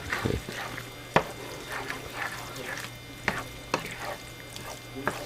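Velveeta cheese being stirred as it melts in a pan, with soft wet squelching and scraping strokes, a few sharper clicks of the spoon against the pan, and a steady low hum underneath.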